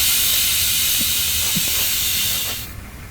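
Steady, loud steam hiss from a pressure cooker cooking cucumber and jackfruit seeds on a medium flame, ending abruptly near the close.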